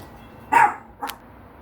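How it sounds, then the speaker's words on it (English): Two loud, close barks from a pet dog indoors, a longer bark followed half a second later by a shorter one, with no talk. "My dog likes to bark."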